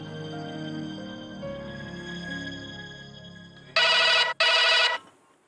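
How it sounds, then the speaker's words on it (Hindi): Two loud electronic telephone rings, each about half a second with a brief gap, cut in over a soft background musical score in a home drama scene. "आ गया असद का फोन"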